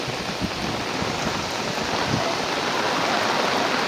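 Steady, full rushing of river water flowing past a riverside resort with waterfalls nearby, a loud continuous wash without pauses and no voices.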